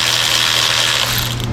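A hand ratchet tightens gearbox frame plate bolts on a 1987–2001 Jeep Cherokee XJ, a rapid continuous clicking of the pawl running close and loud for about a second and a half.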